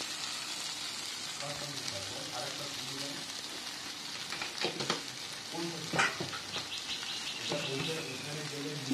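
Cumin powder frying in hot oil for a vegetarian dalia khichdi gives a steady low sizzle throughout, with a few scraping stirs and clinks in the middle.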